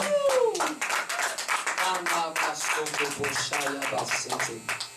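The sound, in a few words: congregation clapping and cheering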